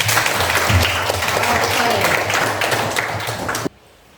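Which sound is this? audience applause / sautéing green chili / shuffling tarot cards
audience applause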